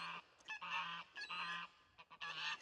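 Ducks on a platform at a duck shelter give about four loud, close, honking quacks in a steady rhythm, each call lasting roughly half a second with short pauses between.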